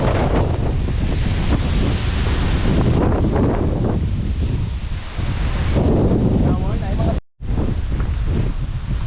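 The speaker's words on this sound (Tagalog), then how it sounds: "Hangin na." Strong, gusty wind buffets the microphone on a hillside trail toward Buhisan grassland during a stormy trail-run recon in Cebu, a loud continuous roar with brief lulls and a short dropout near the end.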